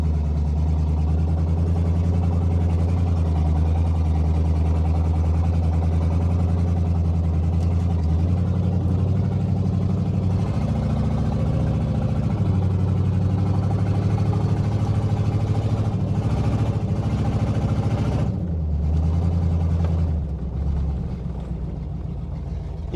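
A 1970 Oldsmobile engine runs loud and close, holding a steady low idle with a few rises in pitch as it is revved, then settling back.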